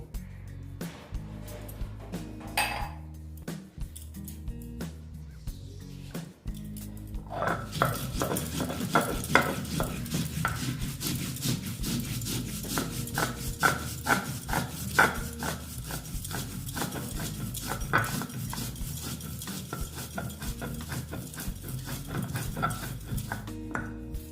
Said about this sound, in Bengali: আমি শিলনোড়া নিয়ে নিলাম আমি দেখো পোস্ত নিয়েছি আর সর্ষে নিয়েছি আর কাঁচা লঙ্কা নিয়েছি নিয়ে এটা আমি বেটে নেবো